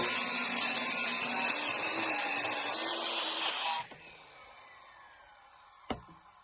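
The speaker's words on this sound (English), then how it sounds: "I'm cutting a curve with a skill saw" A circular saw cuts a curve through 3/8 inch marine Baltic birch plywood, a loud whining, buzzing cut that stops abruptly partway, leaving a fading spin-down and a brief knock near the end.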